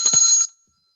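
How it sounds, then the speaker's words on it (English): A single bright, near bell ring, struck once to close a plenary panel session, sounds crisply and then cuts off quickly into silence. "Let me have a pleasure of ringing the very last bell."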